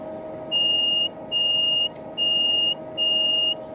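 Guard buzzer in a Class 390 train cab in Train Sim 2020, sounding four even tones of about half a second each at regular intervals over a low steady cab hum.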